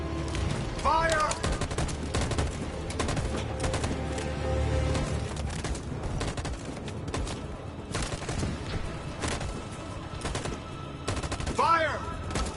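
Gunfire in the video game Detroit: Become Human, rapid volleys of shots and bursts popping in dense clusters across the scene, loud and continuous with short gaps, with a shouted voice briefly heard among the shots.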